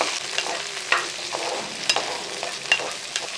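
Okra frying in hot oil gives a steady, soft sizzle with small crackles and occasional spoon-stirring clinks, close and without talk.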